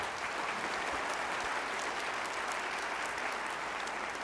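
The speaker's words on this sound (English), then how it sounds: "How about a round of applause for Jason?" An audience claps steadily at a talk on leadership and workplace culture. The dense, even applause fills the room for the full length without a break, and no one speaks over it.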